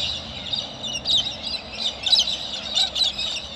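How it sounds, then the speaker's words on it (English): Loud birds calling and squawking nearby in repeated bursts, heard outdoors beside an old Holden being revived after years parked. "Very loud birds."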